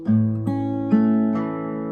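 Four plucked guitar notes ring out one after another at a slow, even pace, each clear and sustained, with no voices.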